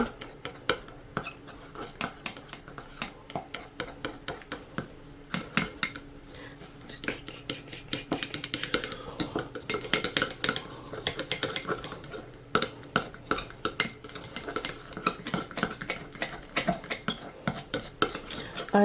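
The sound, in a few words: stirring and mixing texture paste in a container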